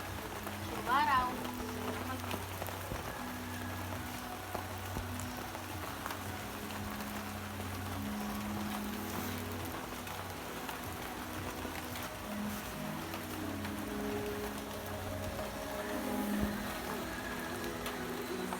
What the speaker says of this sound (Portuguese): Chuvaral.